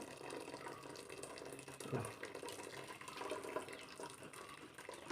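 Faint, continuous trickle of water draining from cooked rice, a soft steady flow with a brief louder splash partway through.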